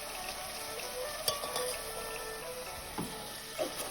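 Onions and tomatoes sizzle softly in a pan for mushroom biryani. The frying hiss is steady and quiet, broken by a few light stirs and clinks of a utensil against the pan.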